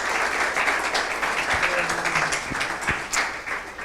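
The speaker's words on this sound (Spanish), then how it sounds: "Un aplauso para María." A seated audience gives sustained, steady applause to the speaker María Miyar at a talk on immigration and democracy, dense clapping throughout without a break.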